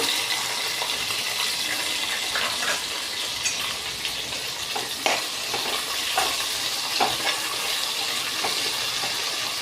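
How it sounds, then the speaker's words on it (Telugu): Green chilies and onions fry in hot oil for veg biryani, giving a steady, close hiss and sizzle with scattered pops and crackles across the clip and no talking. "ఆయిల్ వేడెక్కిందండి ఫస్ట్ పచ్చిమిర్చి ఉల్లిపాయలు వేస్తున్నా"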